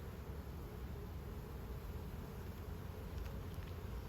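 A dense, steady buzzing of many honeybees in an opened hive, continuous and close, forming an even droning hum with no talking.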